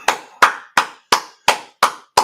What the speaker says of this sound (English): Let's clap it up for Most High in Christ.